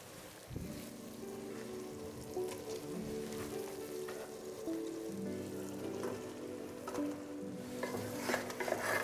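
Mutton drops into a hot pressure cooker with a loud initial sizzle that settles into a steady, crackling fry lasting several seconds, with occasional clinks and stirring near the end.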